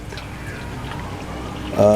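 Water being poured into the tank of a homemade HHO generator, a steady pouring trickle running under background noise and swelling louder near the end.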